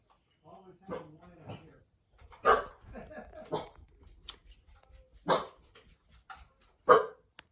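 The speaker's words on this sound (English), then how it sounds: "Stop barking." A dog barks sharply several times at irregular intervals, loud and close, with a person talking between the barks.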